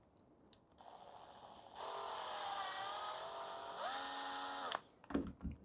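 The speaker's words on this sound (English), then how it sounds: "I have this drill bit here, and I can just make this a little wider" A power drill bit widens a hole in a 3D-printed plastic part for a Noisy Cricket replica prop, whining up in bursts with a steady high grinding drone that shifts pitch, then stops before a few clattering handling knocks.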